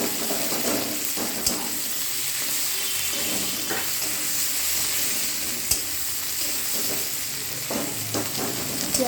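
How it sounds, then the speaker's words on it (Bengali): Chopped onion frying in hot oil with chili and bay leaf, a steady close sizzle with occasional sharp stirring clacks and pops throughout. "পেঁয়াজটা এবার লাল লাল করে ভাজা হওয়ার জন্য ছেড়ে দেবো।"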